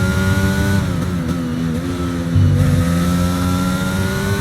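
A race car engine in a sim racing game at Zandvoort screams at high revs, its pitch dipping on downshifts and climbing again through the gears, loud and continuous with no talk.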